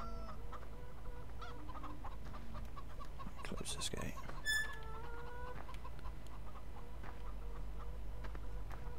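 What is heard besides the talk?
chickens clucking on farm in video game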